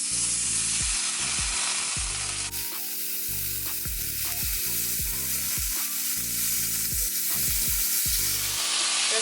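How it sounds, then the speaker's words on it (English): Butter melts and sizzles in a hot skillet, a loud continuous crackling hiss, close up, broken by repeated metallic scrapes and taps throughout. "Just gonna allow this butter to melt down"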